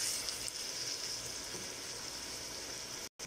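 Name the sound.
onions and minced meat frying in a pan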